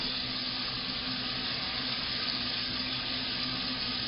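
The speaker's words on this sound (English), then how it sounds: "When the oil is hot, just add fish pieces one by one and cook it really nice" Fish pieces shallow-frying in hot oil in a pan for fish biryani give a loud, steady, unbroken sizzling hiss that holds evenly throughout, with no voices.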